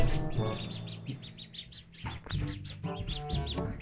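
Ducklings peep in a steady series of high, repeated chirps close by, with faint low household sounds and murmured voices underneath.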